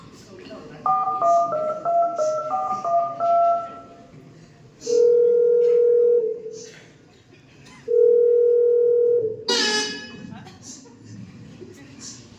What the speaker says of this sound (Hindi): उसने हिम्मत से फोन उठाया, नंबर डायल किया